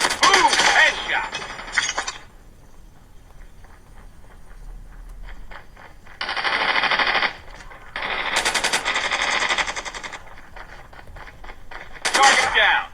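Gunfire in the Call of Duty Mobile shooter game on a Samsung Galaxy Tab A11: loud bursts of rapid automatic fire separated by quieter stretches, with a final short burst at the end.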